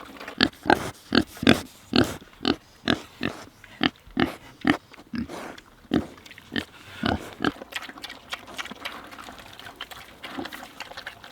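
Pigs at feeding time on an off-grid homestead, grunting in a steady rhythm of loud, close oinks about twice a second, becoming looser and more scattered toward the end.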